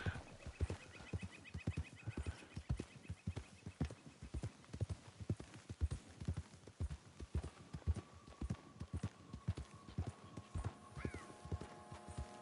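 Horse hooves galloping in the video game Red Dead Redemption 2, a fast, steady clip-clop rhythm of dozens of beats, close and clear, with faint tonal game sounds behind.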